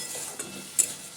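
Tarka being stir-fried with cooked-down spices in a pan, a faint, quiet hiss under a couple of soft stirring scrapes or clicks, one near the middle and a sharper one toward the end.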